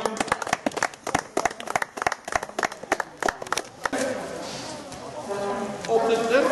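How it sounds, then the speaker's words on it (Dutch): Small crowd at a Kasterlee cycling race podium ceremony giving a short round of scattered, sharp hand claps that rise then fade, followed by outdoor ambience and murmuring voices. "En graag nog een klein applaus voor de podium"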